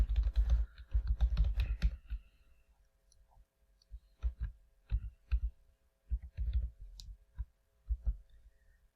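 Login name and password are typed on a computer keyboard in quick bursts of close, crisp key clicks, a dense flurry at first, then sparser separate taps and short runs.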